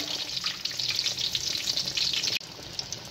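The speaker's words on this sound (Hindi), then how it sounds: "ये फिश 3 से 4 मिनट में फ्राई हो जाती है" Fish frying in oil gives a soft, continuous crackling sizzle, faint and close, with a brief dip near the end.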